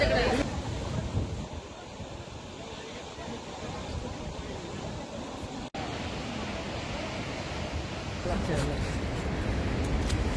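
Thoseghar waterfall at Chalkewadi roaring in a steady, loud, unbroken rush of falling water that fills the whole scene.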